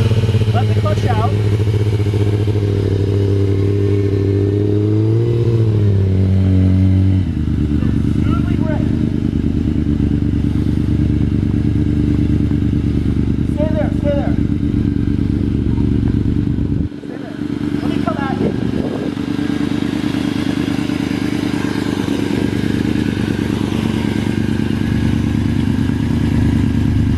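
A Yamaha R6 motorcycle pulls away as the clutch is let out. The close engine note rises, then drops and settles into a steady running hum, with light clatter partway through.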